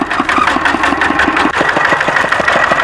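A small farm tractor engine chugs loudly and close by in a rural Thai village, its steady rhythmic knocking pulse running throughout.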